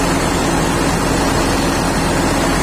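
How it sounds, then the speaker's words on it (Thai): A big old yellow truck's Hino J08C turbo engine runs loud and close. It makes a heavy, constant roar with a low rumble underneath and no pauses. "น่าจะเป็นเครื่องิโน่ครับ JO 8 C Turbo"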